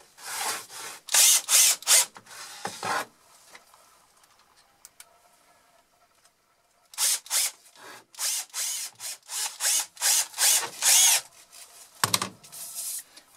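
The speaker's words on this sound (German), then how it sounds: "Kann ich daher gehen und diese Schichte verschrauben." A power drill drives screws through ten stacked layers of 40 mm poplar plywood in close, loud, pulsing bursts, with a quiet pause between two runs of repeated drilling.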